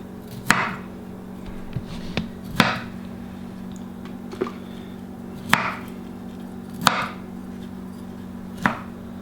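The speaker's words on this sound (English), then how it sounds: "Chopping broccoli, chopping broccoli." Broccoli being chopped with a knife on a board, six or seven sharp separate knocks spaced irregularly over a low steady hum, close and fairly loud, with no one speaking.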